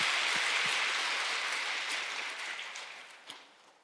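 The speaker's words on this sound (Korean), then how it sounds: "하나님께 영광의 박수 올려드리겠습니다" Congregation applauding during a Sunday church service, a broad wash of clapping that starts strong and gradually fades over a few seconds, with a faint knock near the end.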